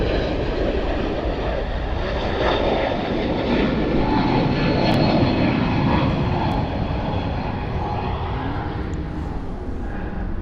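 A fixed-wing jet landing on runway 34 left at Sydney Airport gives a loud, steady, broadband engine roar that fills the whole stretch without a break, close by and with no talk over it.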